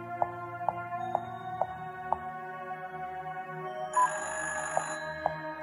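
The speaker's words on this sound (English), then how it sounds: "Phone's always ringing when I'm walking by." In the video game Fran Bow, a telephone bell rings in a steady repeating pattern of short evenly spaced rings, fairly quiet and in the background, with a brief burst of another game sound midway.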